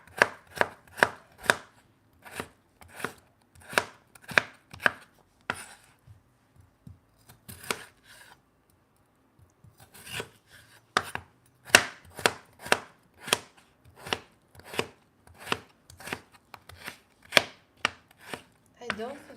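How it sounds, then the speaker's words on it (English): A knife chops potatoes on a board in quick, crisp rhythmic strokes, pausing briefly midway before resuming a steady run of close, clear cuts with no talking. "You can slice your potatoes if you like, but you can also chop them."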